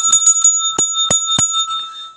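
A wealth-calling amulet bell rung in bright metallic strikes: a quick run of lighter dings, then three louder, fuller rings spaced evenly, each leaving a sustained shimmering tone that fades out.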